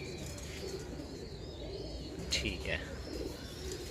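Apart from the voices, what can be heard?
slate Kamangar pigeons cooing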